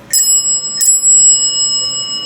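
A Haughton bell rings with two bright metallic strikes in quick succession, each leaving a clear sustained ringing tone that lingers and fades slowly; loud and close with no talking.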